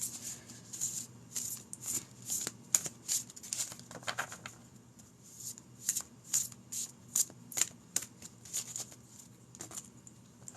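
Tarot cards are shuffled close up in a quiet room, giving a series of quick crisp riffles and soft slaps at an uneven rhythm, with short pauses between bursts.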